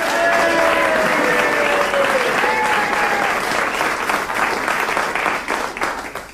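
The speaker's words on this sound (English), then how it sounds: "I think the warmth of that applause tells you both how very welcome you are." A theatre audience gives loud, warm applause for a husband-and-wife singing duo, with dense clapping and a few cheers and voices rising through it before it begins to thin out.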